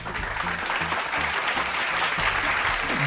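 Loud, dense applause from a group, steady clapping throughout at close range.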